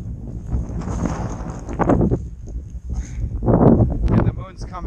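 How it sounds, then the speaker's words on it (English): Strong gusting wind buffets the microphone outdoors beside a pond, swelling and fading in heavy low rumbles while someone talks over it. "The wind's really kicking, probably 15 miles per hour"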